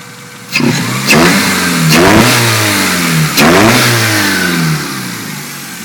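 A Honda CB7 motorcycle with a bad exhaust leak, worn valve seals and a loud cold air intake revs repeatedly, each close, loud blip rising and falling over a rough, sputtering idle.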